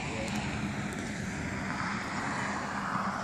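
Radio-controlled GWS model plane on its maiden flight makes a pass, its small motor a steady broadband drone throughout, with people talking nearby.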